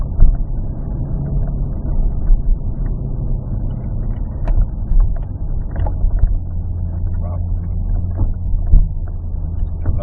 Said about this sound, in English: straight out, wide open throttle for the finish